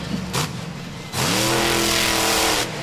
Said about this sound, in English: the engine sounds a little off there heading down, kind of a little sputter.